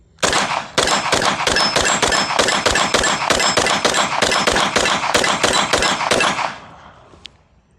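A CZ Scorpion EVO 3 Micro fires a full magazine: about twenty sharp, loud shots at a steady, rapid semi-automatic rhythm, each a crisp crack, ending with a brief metallic ping as the echo fades.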